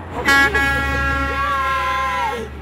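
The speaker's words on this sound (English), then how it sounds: "the Joy Project gives to us three horns a honking" Car horns honk loudly and steadily in traffic, one sustained blaring toot layered with others, close by and held for a couple of seconds.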